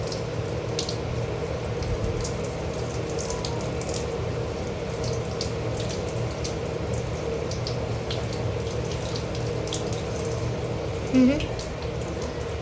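Prawns are rinsed under running tap water in a kitchen sink, with a steady, continuous flow of water broken by small splashes and clicks from handling and a faint knock near the end.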